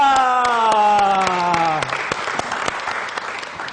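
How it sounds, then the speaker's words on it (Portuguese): A studio audience on a Brazilian afternoon talk show applauds a pastor. A sustained descending musical tone plays first, then cuts off into lively, dense clapping that carries on to the end. "Vamos aplaudir o nosso querido pastor Taborda!"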